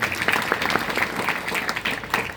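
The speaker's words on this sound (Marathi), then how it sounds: "एकदा वादकांसाठी टाळ्या वाजवा." Applause from an audience at a devotional bhajan gathering during a week-long Harinam Saptah in Devthan: a dense, continuous patter of many hands clapping, steady and fairly close, lasting briefly.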